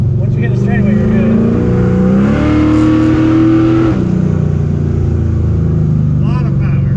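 A 1968 Ford Mustang Fastback drives and accelerates, its engine rising steadily in pitch from inside the car, with people talking over the engine throughout.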